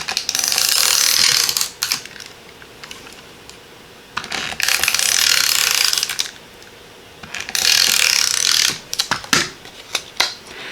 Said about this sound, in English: So I'm going to go ahead and put some snail on this.